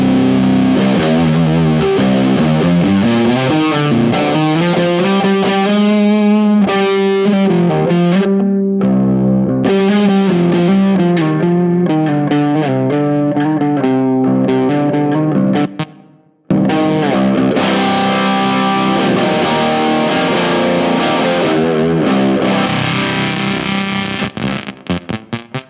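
Electric guitar in C standard tuning through a HangmanFX Tyrannosaur overdrive pedal, loud and heavily distorted, playing a steady driven riff with one brief cut to silence about two-thirds through before the playing resumes.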